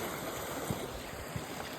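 A steady, faint rush of water flowing down over the rocks at a waterfall near a Shiva temple after the monsoon, a continuous distant trickle with a couple of soft splashes.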